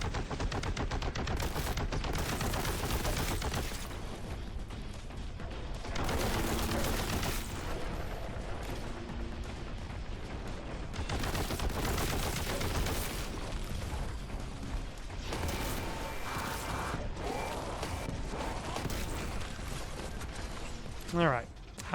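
Continuous rapid gunfire and explosions from the shooter game Warhammer 40K: Boltgun, loud and dense with brief lulls, with a player's voice talking over the combat.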